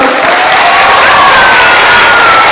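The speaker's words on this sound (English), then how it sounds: "can we have one more round of applause for the chorus and orchestra?" A school chorus and orchestra receive a dense, loud round of applause from a close audience, steady clapping mixed with some cheering throughout.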